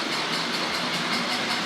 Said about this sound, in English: So we've got two models with chuff chuff sound there.